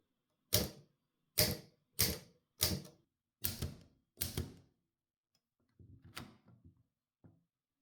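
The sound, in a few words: typing on a 1920 Typo model B typewriter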